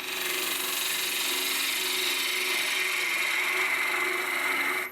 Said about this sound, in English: just using the bowl gouge for as long as I need to.